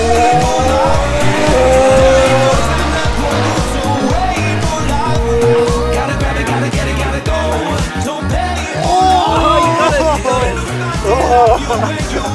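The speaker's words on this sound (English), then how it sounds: "we drive fast cars" Fast racing cars roar past with loud, rising and falling engine tones and squealing tires, close and dense, while voices and background chatter mix in underneath.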